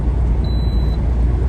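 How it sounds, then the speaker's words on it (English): A single steady electronic warning beep from a truck's dashboard, alerting to potentially icy road conditions, rings for about half a second over a loud, constant engine and road rumble inside the cab. "excuse the beeping, that's just my truck saying there's potentially icy road conditions"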